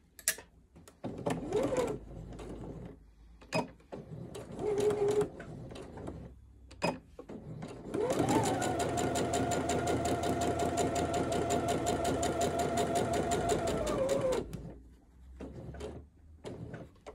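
A sewing machine stitches a seam on men's boxer shorts in one long steady run of about six seconds, preceded and followed by short bursts, clicks and handling sounds close by.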